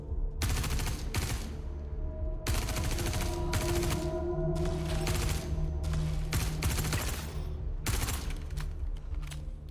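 Rapid automatic gunfire from a video game firefight, loud, dense bursts of shots with brief pauses in between, continuing for several seconds.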